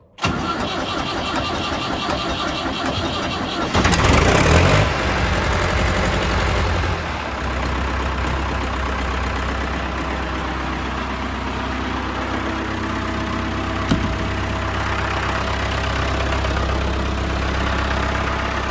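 A Ford 5000 tractor engine cranks and fires within seconds, roars loudly for a few seconds, then settles into a steady low, throbbing idle that runs on to the end with no talk over it.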